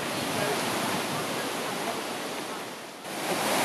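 Shannon Falls waterfall pours in a steady, loud, broadband roar that holds constant throughout with only a brief dip near the end; no voices.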